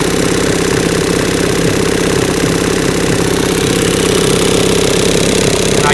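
Evinrude E-Tec 30 HP outboard engine running in gear after being shifted, a loud, close, steady rhythmic drone with a knocking pulse and no let-up.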